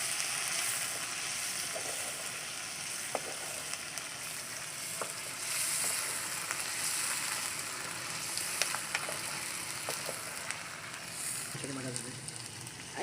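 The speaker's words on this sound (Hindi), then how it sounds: "इसमें हम शामिल कर रहे हैं 1 से 2 टेबल स्पून लहसुन अदरक का पेस्ट। चिकन हमारा गोल्डन हो चुका है, वो स्पून उसमें रखा है। अब हम इसे अच्छे से फ्राई करेंगे।" Chicken fries with ginger garlic paste in a karahi, giving a steady, close sizzle throughout, with occasional light clinks of a stirring spoon.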